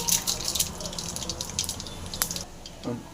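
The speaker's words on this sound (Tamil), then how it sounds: "ஸோ எண்ணெய்லாம் காஞ்சிச்சு கடுகளை போட்டுடலாம்" Mustard seeds crackle and pop in hot oil for a beetroot dish, a dense run of sharp sizzling spits close up, thinning toward the end.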